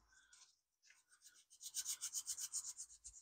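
Sandpaper rubbed over metal to strip surface oxidation, a steady run of quick rasping strokes, close and fairly loud, following a brief quieter scrape and a short pause.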